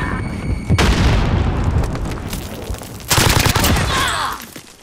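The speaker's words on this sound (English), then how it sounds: "Throwing grenade." Grenade explosion and gunfire in a multiplayer shooter video game with a train push, loud booming blasts and dense bursts of rapid automatic fire, a second heavy detonation midway, with faint voice chat underneath.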